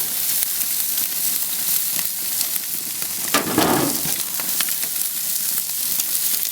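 BBQ chicken wings sizzle steadily on a grill, a loud constant crackling hiss with a brief scraping swell as a spatula pushes them around midway.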